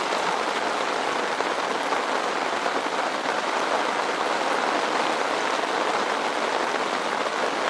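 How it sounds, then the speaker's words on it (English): Rain falls on an iron-walled hot tent in a dense, steady patter that stays even and continuous throughout, with no voices. "Stay cozy in the rain."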